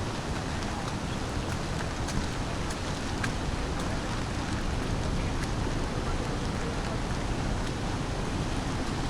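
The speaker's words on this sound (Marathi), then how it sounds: "धबधबा आहे इकडे, मिनी धबधबा तिकडे आलं." A small monsoon waterfall in the Konkan countryside pours in a constant, full-bodied roar of falling water, near and loud throughout with no talking.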